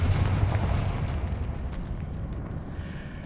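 A Confringo blasting-spell explosion from the Hogwarts Legacy video game bursts loudly at the start. It then fades into a long, rumbling, crackling decay with no speech.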